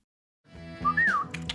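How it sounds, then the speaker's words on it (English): A person whistles a bright rising-and-falling tune with clicking sounds, a host's trademark call, close and clear for about a second after a short silence. "What's this thing you do, the whistle with the clicking sound?"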